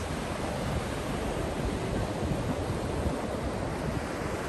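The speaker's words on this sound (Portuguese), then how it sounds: "Tá ventando bastante," Strong wind roars across the microphone in a steady rush at Praia do Francês beach in Alagoas, Brazil, mixed with the low churn of surf, with no voices.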